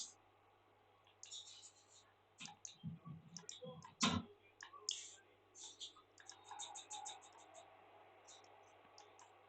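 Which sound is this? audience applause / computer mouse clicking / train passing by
computer mouse clicking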